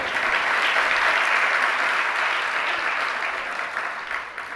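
Dense, sustained applause from a seated audience at a Jain religious discourse, steady and loud throughout before thinning slightly near the end.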